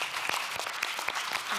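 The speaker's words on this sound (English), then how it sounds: "A warm round of applause to our panelists." Conference audience applauding panelists at a gender equality session, a dense, steady patter of many hands clapping at once that holds at an even level throughout.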